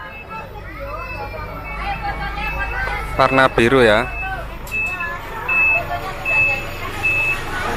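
A Macito city bus in Malang pulls in with a steady engine rumble and repeated electronic reversing beeps, while people chatter nearby and a voice speaks briefly.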